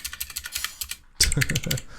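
Someone types quickly on a computer keyboard nearby, making a rapid, uneven run of key clicks. A brief pause follows, then a louder spell of clicking mixed with a speaking voice.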